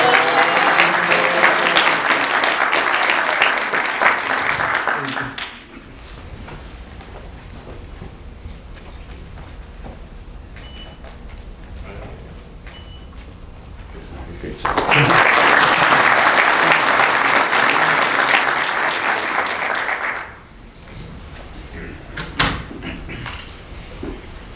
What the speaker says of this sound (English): You can clap for yourselves.